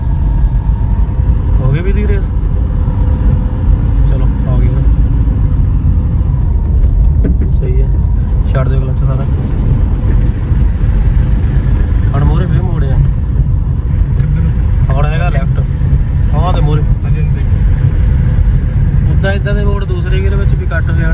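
A car's engine runs steadily throughout a driving lesson, a continuous motor drone that rises slightly as the accelerator is pressed after the clutch is let out, with people talking over it from start to finish.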